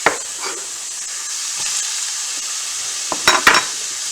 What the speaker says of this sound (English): Throwing the onion on the pan.